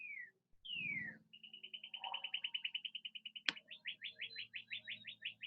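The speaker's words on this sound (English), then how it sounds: "You can hear the birds." Birds chirp outside: clear whistled calls and rapid trilled phrases repeat in quick succession, fairly soft and alone, with a faint low hum beneath.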